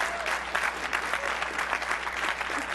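A conference audience at a Microsoft developer session on Visual Basic breaks into applause, a continuous, even clapping from many people heard alone without speech.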